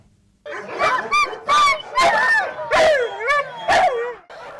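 A Staffordshire terrier whines and cries in an animal shelter, a string of high, wavering, pitch-bending whimpers and yelps repeated close by at a steady rhythm, with no talk over it.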